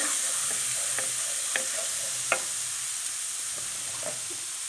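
Garlic sizzles steadily in olive oil in a pan for a mushroom sauté, with a few light spatula taps and scrapes over the constant hiss and no voices.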